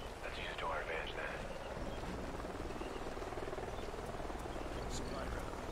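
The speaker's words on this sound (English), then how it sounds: "Sounds like a chopper's up ahead of us." A helicopter in Call of Duty: Ghosts thrums as a continuous rotor drone in a canyon, steady and moderately distant, with faint voices over it.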